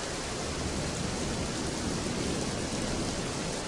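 Steady rain falls outside as a soft, even hiss that holds without a break, fairly quiet, with no voices.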